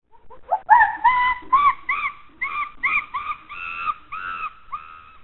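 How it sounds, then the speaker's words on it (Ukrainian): Chimpanzee calls from the Voyager Golden Record ring out as a series of clear, tonal hoots, rising at first and then repeating in uneven bursts, close and distinct against silence. "Голос шимпанзе."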